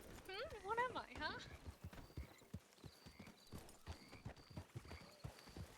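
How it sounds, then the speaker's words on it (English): In a video game roleplay, a horse whinnies briefly, then its hooves clip-clop in a steady, close rhythm, with a voice talking over the opening. "All right, come on, shitty horse."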